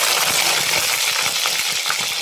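Small onions (shallots) fry in about three spoons of oil in a cooking pot, producing a loud, dense, continuous sizzle close by with no talk.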